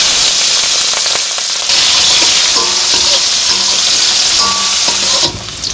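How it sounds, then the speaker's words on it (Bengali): Chopped onions sizzle and fry steadily in hot oil with cumin and bay leaf in a village-style chicken curry pot, a loud continuous crackle with occasional stirring clatter, ending abruptly. "এখন পেঁয়াজ কুচি দিয়ে দিব"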